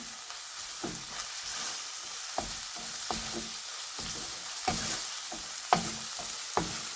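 Onions and spices frying in a pan while being stirred quickly for a kofta curry: a constant sizzle with repeated scraping strokes of the spoon against the pan bottom, close and steady.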